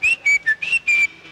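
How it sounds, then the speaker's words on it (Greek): A person whistles five short, clear notes in quick succession, loud and close with no talk. "Θα σφυρίξετε. Για σφυρά να σε ακούσω."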